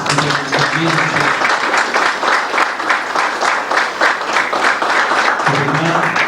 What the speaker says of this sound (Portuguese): Eu peço a todos uma salva de palmas para os senhores.